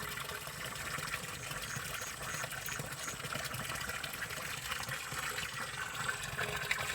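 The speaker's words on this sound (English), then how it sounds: "This is where people fetch water direct from this pipe here." Water gushes steadily from a village water pipe in rural Kenya, a continuous close splashing flow that fills the whole stretch with no talking.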